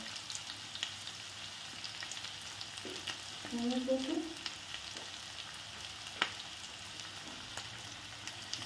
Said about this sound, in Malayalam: അതൊന്ന് വഴന്ന് കിട്ടിയാൽ മതി കേട്ടോ. ഹൈ ഫ്ലെയിമിൽ വെച്ച് വേണം ചെയ്യാൻ.